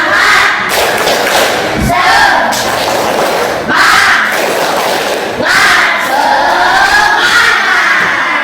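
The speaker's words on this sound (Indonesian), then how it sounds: "Yuk, 1, 2, 3, tepuk semangat." A class of children does a group clapping chant led by a teacher, loud voices shouting in unison in rhythmic bursts, with claps and thumps between the phrases.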